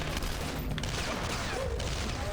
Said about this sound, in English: So you can shoot your way through.